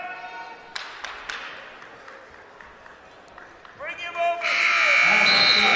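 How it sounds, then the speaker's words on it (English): First-period buzzer at a Big Ten college wrestling match, Wisconsin at Maryland, blaring loud and steady over the last second or so, following arena crowd murmur and claps with a commentator talking. "First period buzzer sounding after 3 minutes."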